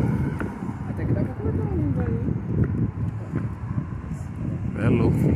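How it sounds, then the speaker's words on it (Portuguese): Strong gusty wind buffets the microphone outdoors while kites are being flown, a steady roaring rush throughout with louder surges near the end, and people talking over it. "O vento tá muito forte."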